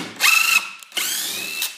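A power drill drives a 35 mm screw into wood in two bursts, each a loud whining rise with a grinding ratchety edge, separated by a brief pause, close and alone.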